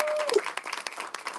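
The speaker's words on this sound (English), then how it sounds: "please give Lefty a big round of applause." An audience at a live event at a Barnes & Noble claps in a brief burst of applause, quickly thinning to scattered claps, with a voice heard briefly at the start.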